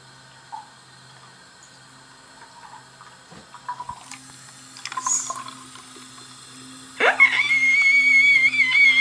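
A toy being dunked into running water at a sink, a tap-like splash and gurgle that swells after a few quiet seconds of faint handling noise and then runs steadily and loud.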